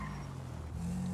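In a GTA roleplay game, a car engine drones and revs up briefly, the pitch lifting toward the end, with no clear tyre squeal standing out.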